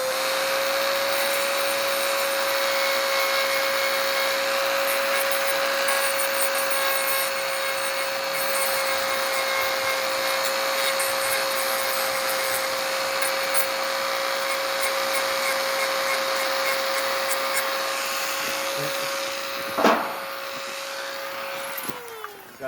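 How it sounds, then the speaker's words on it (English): A Dremel rotary tool grinds steadily on Glock 43 OEM magazines, a continuous high whine held close and loud for about twenty seconds before a brief clatter and the motor winding down. "And then I'm just going to take my Dremel."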